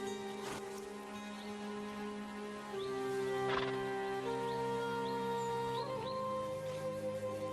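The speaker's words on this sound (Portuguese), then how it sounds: "Os cavalos da Lacútia enfrentam o frio de cabeça erguida." Yakutian horses in bitter Siberian cold, with several whinnies and neighs scattered through a steady ambient wash. A faint hoof or knock lands near the middle, and no one speaks.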